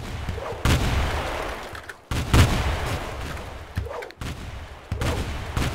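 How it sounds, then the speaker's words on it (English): Mortar rounds land in a match of the game Of Guards and Thieves, a series of heavy, booming blasts a second or two apart with rumbling tails, and faint talk underneath. "those mortars are coming from Moist"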